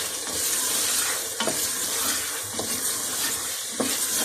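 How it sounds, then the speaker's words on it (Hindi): Chicken being fried and stirred in a pan for gobhi gosht, a loud, dense sizzle with several scraping stirs, close and continuous, no talk over it. "अब मैं चिकन को अच्छी तरह भून लूँ"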